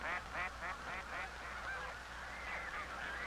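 Geese and ducks being fed bread and lettuce at a bird pond honk in a quick series of close, nasal calls, a few at a time, over a steady outdoor hiss.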